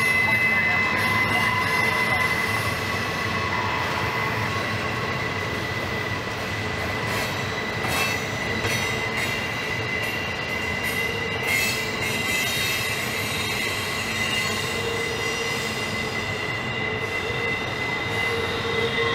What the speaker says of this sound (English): the other part of the train is still coming up the hill